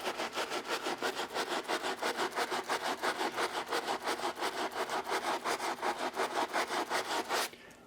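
A LeBron Space Jam sneaker is scrubbed with Dawn dish soap in a fast, steady back-and-forth rhythm of close, rasping brush strokes that continues without a break for several seconds and then stops.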